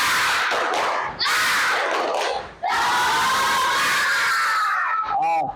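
Classroom students doing a spirit clap chant, bursts of loud group clapping and shouted chanting in two or three energetic waves with brief pauses, ending in a sharp rising call.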